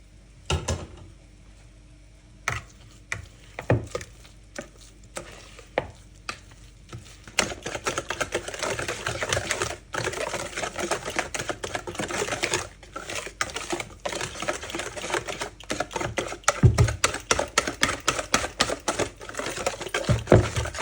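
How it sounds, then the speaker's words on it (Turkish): A wire whisk clatters rapidly against a bowl of milk mixture, sparse at first and then fast and continuous, with brisk rhythmic scraping. "tel çırpıcı yardımıyla pürüzsüz bir kıvam alana kadar karıştırıyoruz"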